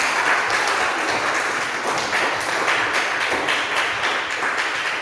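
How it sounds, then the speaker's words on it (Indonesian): A school classroom of students claps together in continuous, even applause that fills the whole stretch at a steady, fairly close level. "tepuk tangan dulu untuk kita semua"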